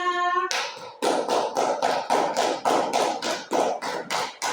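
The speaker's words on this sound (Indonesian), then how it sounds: "Tepuk tangannya." Audience at an Indonesian school or class gathering claps in unison, loud rhythmic bursts of about nine sharp hand-claps in steady tempo, close and distinct, preceded by a brief sung or toned note.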